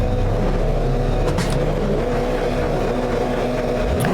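Toyota GR86 race car in the iRacing video game at Okayama, its engine droning loudly and steadily at a standing start, with a brief rev near the end.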